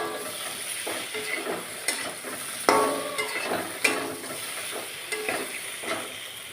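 Pointed gourd (potol) vegetables stir-frying in oil for a home-style curry: steady soft sizzle with scraping stirring strokes and occasional louder clatters of the spatula against the pan, close and continuous.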